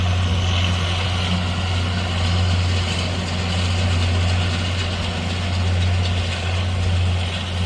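A tractor pulls a baler across a rough field, its engine giving a steady, loud, low drone throughout with a faint mechanical rattle and no talk.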